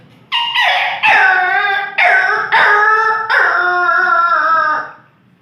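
A voice imitates a dog whimpering in pain after being stepped on, producing a series of loud, close, drawn-out whining yelps and howls in quick succession, with no other talk.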